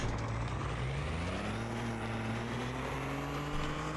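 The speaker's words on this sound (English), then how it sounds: "This truck is loud." A loud, steady truck engine in a farming video game drones throughout, its pitch rising slightly midway as it revs, with a constant rumbling roar and no voices.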